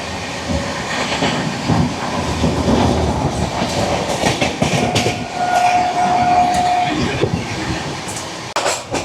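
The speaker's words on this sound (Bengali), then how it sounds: "ট্রেনটা যেভাবে ব্রেক করছে, ট্রেন যেভাবে ঝাঁকাচ্ছে" The Gunupur Rajya Rani Express out of Rourkela Junction brakes and rattles, with a continuous close clatter of carriages and wheels, a thin brake squeal rising midway, and a sharp knock near the end.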